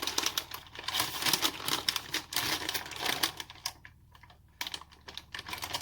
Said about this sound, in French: Je pousse uniquement mon papier.